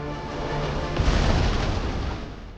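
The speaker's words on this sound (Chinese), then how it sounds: "已经走远的范尼看到爆炸的火光甚是满意" A bundle of dynamite explodes in an action scene from the film The Ice Road, a deep rumbling blast that swells quickly, holds for a moment and then fades away, with no voices.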